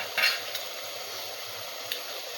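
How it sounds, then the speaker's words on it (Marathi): Chicken sautéing in a pan after hot water is added, heard as a soft, steady hiss with a couple of brief scraping stirs near the start and a faint clink later. "5 मिनिटांनी आपलं चिकन असं परतवलेलं आहे व पाणी त्याला थोडं पाणी सुटू"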